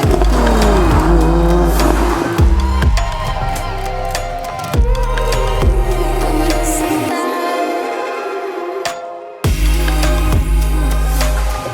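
A Porsche 987 Boxster Spyder is driven hard, its engine revving up and down through gear changes with a brief tyre squeal and a short lift-off lull before the loud engine note returns.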